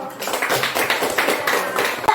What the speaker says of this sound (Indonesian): tepuk tangan buat Irman dulu.